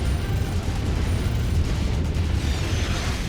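Artillery cannon blasts in MechWarrior 5 rumble as a dense, continuous low roar of explosions, loud and sustained, with no speech.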